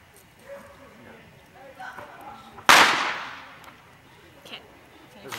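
A single sharp firecracker bang on the Fourth of July cracks out loudly midway, with a fading tail, after quieter outdoor background sounds and a dog.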